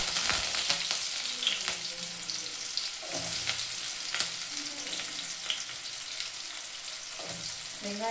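Onions, curry leaves and green chillies frying in hot oil with fenugreek seeds for a dried fish curry, a steady close sizzle broken by repeated stirring scrapes of a spoon against the pan.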